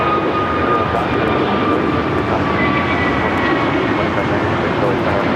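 Jet airliners roar through a takeoff at LAX, a loud, broad, sustained engine rumble with a faint whining tone drifting across it, steady from start to end.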